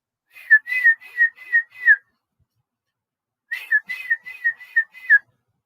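A person imitates a mother's calling whistle: two clear bursts of quick, sharp whistled notes, each a run of about five rising and falling chirps, close and loud, with a pause between the bursts.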